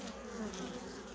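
Honeybees buzzing at a hive during winter in Rome, a steady close drone holding for the whole moment without pause.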